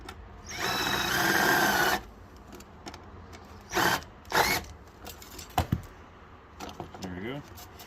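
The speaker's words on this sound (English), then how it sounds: "I'm just going to drill out these rivets and keep my VIN plate." A power drill whines loudly for about a second and a half drilling out VIN plate rivets on a 1990-94 Subaru Legacy, followed by shorter bursts of drilling, metallic clinks and scraping, with some quiet handling noise.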